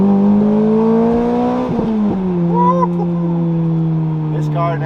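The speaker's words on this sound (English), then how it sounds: "Let's give it a rev." A Toyota 2ZZ-powered car revs with VVTL-i, its engine note holding a loud, steady rising drone through the whole stretch with slight dips, close to the microphone and with no talk over it.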